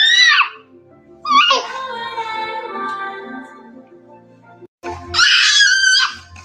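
A child screams indoors in loud, wailing bursts, one short shriek, then a long sustained wavering cry, a brief pause, and another piercing scream, close and dominant.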